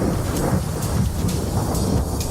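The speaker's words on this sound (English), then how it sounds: "Lightning Strikes." Deep thunder from a lightning strike rumbles continuously over steady, dense rainfall, loud and close throughout with no voices.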